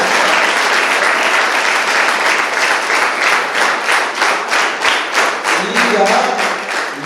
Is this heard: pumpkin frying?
no